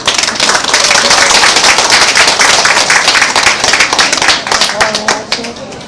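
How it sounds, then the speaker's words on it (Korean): Wedding guests applaud in a hall, a loud, dense burst of hand clapping from a close crowd that holds steady for several seconds, then thins into scattered claps at the end. "큰 박수로 맞이해주시기 바랍니다."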